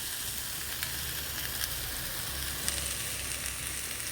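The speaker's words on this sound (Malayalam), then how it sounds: "ഇതൊക്കെ കൂടി ഇട്ടിട്ട് നല്ലോണം വറുക്കുക" Grated coconut with fenugreek and a pinch of asafoetida frying in coconut oil for a pumpkin puli curry, giving a steady, dense sizzle and crackle that stays even throughout with no voices.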